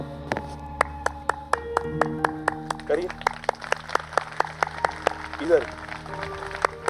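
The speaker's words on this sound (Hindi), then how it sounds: "उनके लिए ताली ऐसे बजनी चाहिए।" A church congregation claps in a steady, evenly spaced rhythm of sharp hand claps over sustained background music, with a voice speaking briefly among them.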